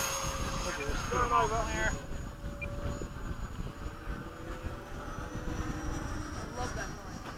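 A radio-controlled MiG-21 model jet makes a high-speed midday pass at a flying field, its steady engine whine and rushing roar sustained throughout, with people talking nearby over it.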